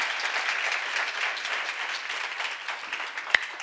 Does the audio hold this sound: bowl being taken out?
no